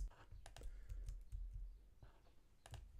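A computer keyboard is typed on in short, faint bursts of quick clicks and taps, with irregular pauses between the clusters of keystrokes.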